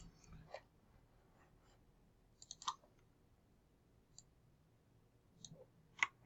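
Sparse, faint keystrokes on a computer keyboard, a few isolated clicks and small clusters spread unevenly at a slow, hesitant pace in a quiet room.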